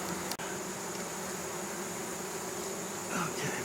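Dense, steady buzzing of a great many honey bees at a healthy hive, continuous and close, with a brief click near the start and no talk.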